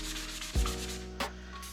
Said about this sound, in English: I'll do a little bit of sanding here for you, show you what I'm doing